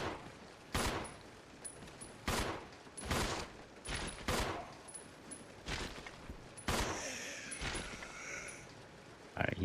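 Gunfire in the video game Resident Evil Zero as an enemy is shot: several loud, sharp single shots spaced a second or two apart, with a brief grunt-like sound near the end.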